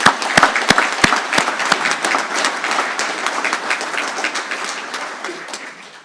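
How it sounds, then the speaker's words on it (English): An audience at an ROTC commissioning ceremony applauds guests, families and veterans, starting with a few sharp separate claps that build into steady, full applause and then slowly taper off. "Please join me in a round of applause for our distinguished guests"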